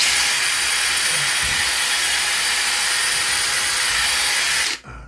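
A power drill spins a scrub brush bit against bathroom tile, giving a steady, loud broadband whirring hiss that runs unbroken for nearly five seconds before cutting off abruptly.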